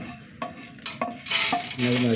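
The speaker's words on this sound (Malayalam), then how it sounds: "പരിപ്പൊന്ന് വറുത്തെടുക്കട്ടെ" Toor dal with fenugreek seeds roasts in a pan with soft sizzling, while a spoon scrapes and clinks against the metal in short, irregular strokes close by.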